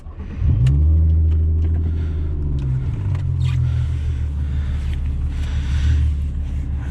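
A Volkswagen MK4 Jetta VR6 rumbles loudly from inside while driving, its exhaust droning low and rising briefly as it accelerates, then settling into a steady, heavy cabin boom.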